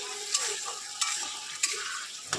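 Taro greens tempered with garlic sizzle in one pan while a fish curry with ginger paste, onion and garlic cooks alongside, giving a steady close frying hiss broken by four sharp utensil clinks.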